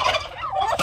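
A pet turkey gobbling once up close, a short loud warbling call that rises and falls, then a brief burst at the end.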